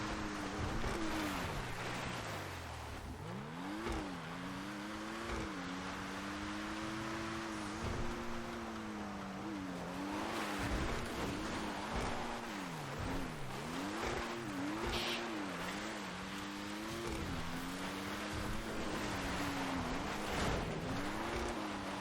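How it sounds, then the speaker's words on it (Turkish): An Ocelot Pariah sports car in GTA 5 drives over dirt and grass, its engine note rising and falling continuously as it revs and shifts, loud and close throughout with no talk. "Toprakta da güzel gidiyor aracımız."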